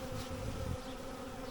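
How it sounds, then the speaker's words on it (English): Honey bees from a freshly caught swarm buzz steadily in a close, continuous drone, with a slightly denser burst of low hum early on before settling into an even tone. "Just bees that are probably just a little bit disoriented with everything that's happened"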